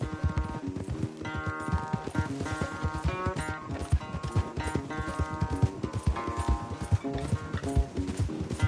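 Horse hooves clip-clop in a rhythmic gallop during a video game horse race, steady and close, layered under continuous game music with no talking.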